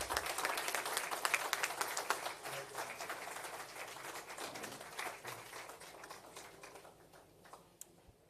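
Audience applause after the Prime Minister's speech at a Jamaican National Disaster Risk Management Council meeting, a fairly quiet, distant spread of clapping that thins out and fades toward the end.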